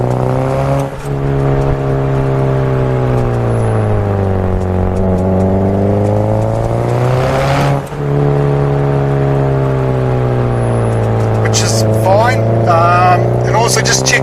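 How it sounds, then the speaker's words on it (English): Subaru Impreza STI S204 on a test drive, its engine and drivetrain droning steadily from inside the cabin, pitch rising and falling with gear changes and acceleration, with someone talking over it. "So what I'm doing now is I'm just seeing if there's any whining noises in the drivetrain."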